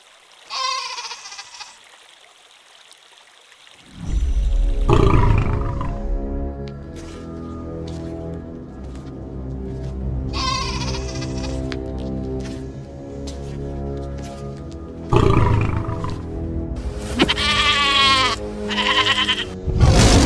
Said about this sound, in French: une brebis s'éloigna du troupeau et se retrouva seule